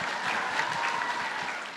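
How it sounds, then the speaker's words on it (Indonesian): Audience applause at an Indonesian religious lecture on collecting debts, a steady dense clapping that holds for just under two seconds before easing slightly. "beri tepuk tangan untuk Ustadz Dasar."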